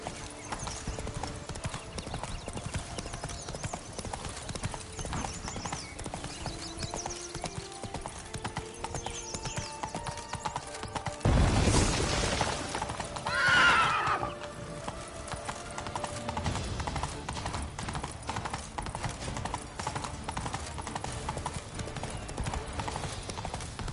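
Geralt's horse Roach in The Witcher 3 gallops in a steady rapid clip-clop of hooves, with a loud whoosh of movement midway and a brief neigh, set against a continuous game soundtrack.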